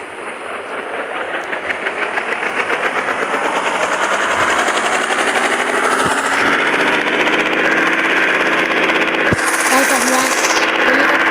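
A helicopter engine runs during a ride, a loud, steady pulsing drone that swells up over the first few seconds and then holds close and constant, with a couple of sharp knocks.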